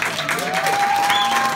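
An audience claps warmly at a jam session, a dense burst of applause lasting a moment and filling the room.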